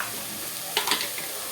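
Banana flower sautéing with onion and turmeric in hot oil, a steady close sizzle broken by a couple of brief scraping stirs near the middle.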